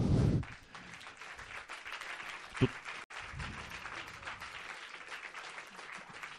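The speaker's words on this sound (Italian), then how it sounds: "Ovviamente gli applausi al vecchio Graves" Applause from an audience at a talk in a bookshop, a moderate, even spread of clapping that carries on for several seconds after a brief bump of voice and handling noise at the start.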